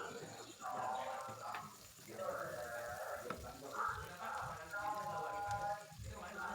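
Chili, petai beans and young torch ginger flower sautéed in a pan for sambal, a steady crackling sizzle running throughout with faint stirring, with someone speaking over it.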